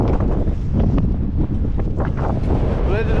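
Steady gusting wind buffets the microphone during rope access work on a building, with a loud, continuous low rumble, with faint voices underneath.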